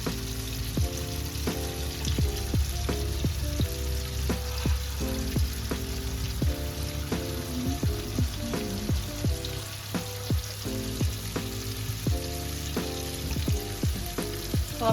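Chicken wings frying in hot oil, a steady close sizzle with crackling spatters that lasts throughout, with no one speaking.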